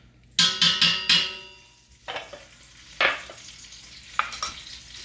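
Pork chops frying in butter in a hot pan, with a burst of loud sizzling and stirring at the start, then quieter sizzle and several sharper spatters and scrapes, no talking.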